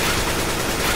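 Continuous spray of automatic weapon fire in CS:GO, a dense, unbroken rattle of rapid shots that stays loud and close for the whole stretch.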